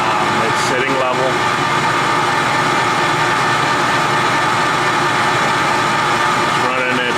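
A Clausing Colchester 15x50 lathe, just after a clutch adjustment, runs steadily at 840 RPM, giving a constant loud mechanical whir and hum with a faint voice speaking over it near the start and end.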